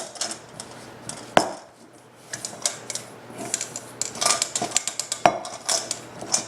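A spoon scrapes and knocks against a bowl while peanut butter and cocoa cookie dough is mixed, with irregular clinks and rubbing strokes, one sharp knock early and another near the end.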